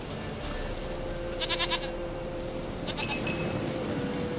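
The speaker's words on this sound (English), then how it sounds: "Here, goat." A goat in The Witcher 3 gives two short, wavering bleats about a second apart, heard over a soft ambient game background.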